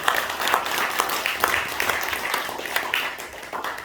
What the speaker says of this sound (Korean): 다시 한번 박수를 보내주시기 바랍니다